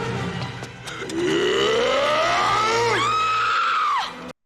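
Loud, sustained screaming from the 1986 film Highlander, a rising shriek that climbs in pitch for several seconds, holds high and shrill, then cuts off abruptly, with a low rumbling soundtrack underneath.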